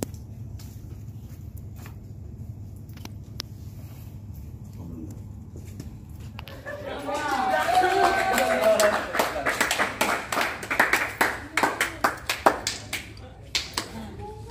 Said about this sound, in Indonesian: Jadi sekarang tepuk tangan terus ya